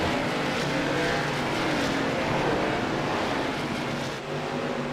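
A pack of race cars in an iRacing simulation at Lanier, engines droning steadily and loudly throughout with overlapping revs and a brief dip near the end.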